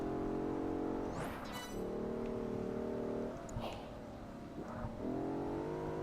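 A Bentley car engine driving in Project Gotham Racing 4, a steady droning engine note that dips and rises through gear changes and revving, with brief whooshing bursts between, heard without talking.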